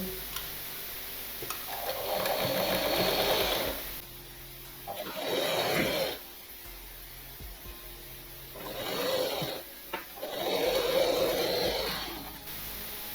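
A sewing machine stitches a blouse in several bursts of steady, fast mechanical whirring, each lasting a second or two, with short quiet pauses between runs and no talking.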